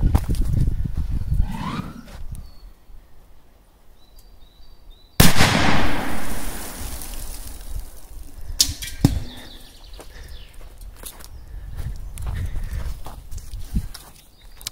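A powerful firecracker goes off under a metal can on concrete with a sharp, loud blast, followed by clattering debris and crackling echoes. Quieter rustling comes before and after.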